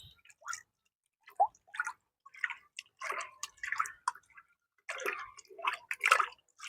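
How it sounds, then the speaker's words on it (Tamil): A hand swishing through water to stir in Epsom salt, a series of soft, irregular splashes and drips, quiet and close. "நம்ம கைவிட்டுக்கும் நல்லா இது கலக்கிக்கலாம்."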